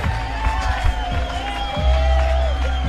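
Crowd at a women's beach volleyball final at a seaside venue, cheering and whooping at a steady, moderate level under a commentator's voice.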